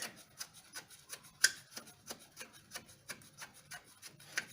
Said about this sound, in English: You can hand tight it first and then use the ratchet to tighten it